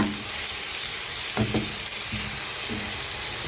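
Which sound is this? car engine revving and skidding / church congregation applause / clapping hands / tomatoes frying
tomatoes frying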